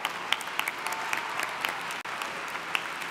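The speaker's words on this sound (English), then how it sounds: "let's also give a round of applause to the ESU Commencement Band" A round of applause from the crowd at a winter university commencement ceremony for the ESU Commencement Band, a fairly soft, even clapping from a large audience lasting a few seconds.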